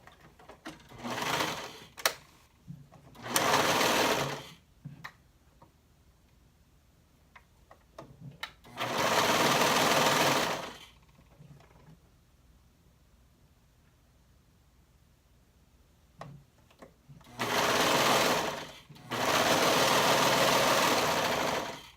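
A sewing machine runs in four separate bursts, stitching a bodice sleeve seam with a half-inch seam allowance, each run lasting a couple of seconds with quiet pauses and small handling clicks in between.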